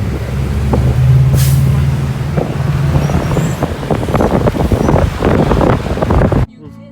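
A bus in the Philippines stops with a sharp, loud hiss of its air brakes, followed by rumbling engine and traffic noise, heavy wind buffeting and scattered voices.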